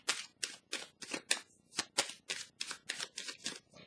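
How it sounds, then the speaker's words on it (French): A deck of tarot cards is riffled and handled in a quick, even rhythm of about a dozen crisp papery bursts, close and clear, with no voice over them. "Je vais piger une carte pour cette zone-là."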